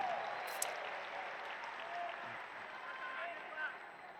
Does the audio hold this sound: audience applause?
yes